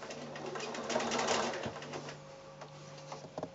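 A sewing machine stitches a quilt wall-hanging near a fold, a soft quick whirring run that slows and fades into a few faint clicks, heard close and quiet.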